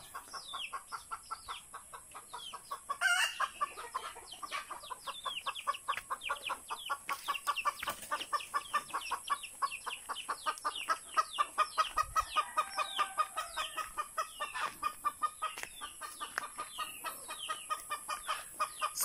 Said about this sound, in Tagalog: kulungan ng manok.